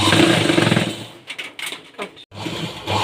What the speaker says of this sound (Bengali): হাত লাগানোর জায়গাতে সোজা সেলাইটা দিয়ে দেবো